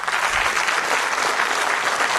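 Steady, dense applause from a large audience at a kids' play summit session in Pune, a continuous close wash of many hands clapping with no gaps.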